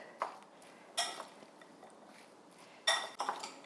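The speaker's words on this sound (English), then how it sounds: "Now just take a spoon and mix it up." A spoon stirs chickpea salad in a dish, giving a few scattered clinks and scrapes against the bowl, with light wet mixing sounds between them, close and fairly quiet with no talking.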